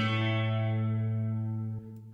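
A Soundbox VST software synth plays a single held note with a chorus effect, a bright, rich harmonic tone that sustains for about two seconds before cutting off abruptly, leaving a faint tail.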